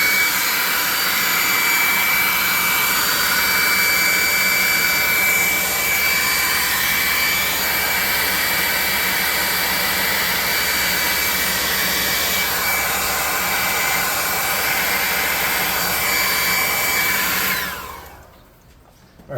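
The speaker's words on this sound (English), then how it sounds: "Let's hit this with a hairdryer" A hair dryer roars loudly and continuously, drying paint on a handmade model war tent for a tabletop roleplaying game, before cutting off near the end.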